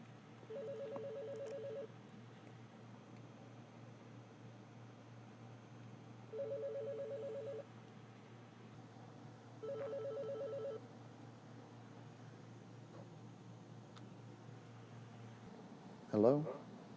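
A Panasonic KX-TGM450S cordless phone handset rings for an intercom call, giving three separate electronic ring bursts spaced several seconds apart over a steady low hum. A short sharp clatter comes at the end.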